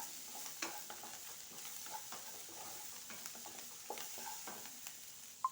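Salted vegetable pieces cook in a pan, giving a soft steady sizzle with light stirring scrapes and small clicks, close and quiet.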